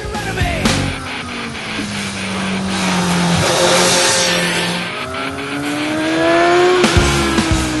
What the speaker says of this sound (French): Le fameux bruit de boîte à air qu'on retrouve sur les sportifs de la marque est bien présent